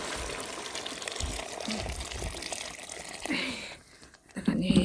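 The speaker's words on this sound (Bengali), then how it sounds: "এখন গরম পানি দিয়ে দিই।" Hot water poured into a meat curry cooking on a village clay stove, a steady watery rush at moderate loudness that turns sizzly and splashy toward the end.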